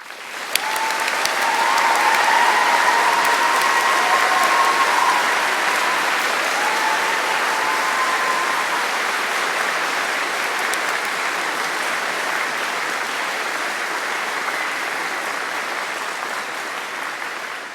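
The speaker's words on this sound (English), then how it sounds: "their role, too, deserves to be acknowledged by a round of applause." A graduation ceremony audience breaks into sustained applause, dense clapping from a large hall crowd that holds steady for the whole span and tapers slightly toward the end.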